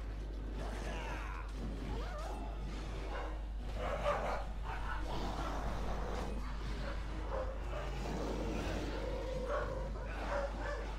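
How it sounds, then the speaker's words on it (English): Several dogs barking indoors after being let in from outside, with repeated woofs and yips running through the whole stretch at moderate volume. "Sorry about the dogs."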